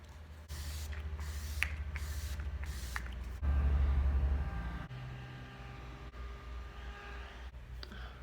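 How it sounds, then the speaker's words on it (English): A spray nozzle pumped in several quick hissing bursts close by, followed by a steady low hum with no talking. "set it all down with my, what is this stuff called? Setting spray"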